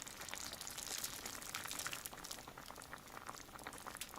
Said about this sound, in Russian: Попросим залить кипяток.